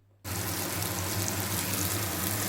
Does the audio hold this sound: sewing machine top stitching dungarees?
no